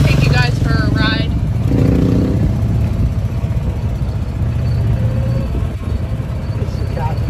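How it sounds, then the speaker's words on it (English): A golf cart riding around a large property, its engine humming and rumbling steadily throughout at close range while people talk over it. "we are riding around in the golf cart on this property"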